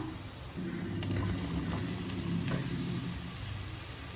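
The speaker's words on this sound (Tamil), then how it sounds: "இப்போ நம்ம வேக வச்ச வாழைக்காய் இது கூடவே சேர்த்துக்கலாம்" Boiled raw plantain is tossed into chili masala in a hot pan. After a quieter start, a loud, steady sizzle takes over, with stirring scrapes through the frying.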